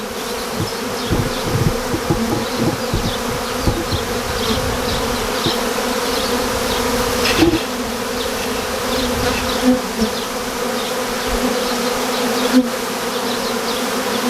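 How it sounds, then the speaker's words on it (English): A dense swarm of honey bees tangled in grass being coaxed into a box, buzzing steadily and loudly throughout with a close, continuous drone and a few sharp thumps. "this group of bees was thicker than I thought, and intertwined with the grass and everything"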